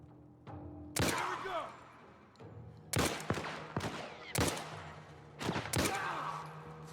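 Gunfire in The Last of Us Part I: about five sharp, loud shots spaced irregularly over several seconds, each with a short echoing tail, over low ambient hum.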